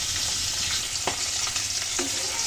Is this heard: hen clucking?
no